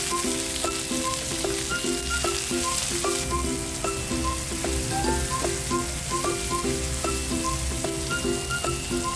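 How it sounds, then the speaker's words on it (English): Tomato sautéing in a pan with onion, a steady broadband sizzle running the whole way under a repeating pattern of melodic, chirping tones that sound like background music. "Tomato. Sauté until it's softened."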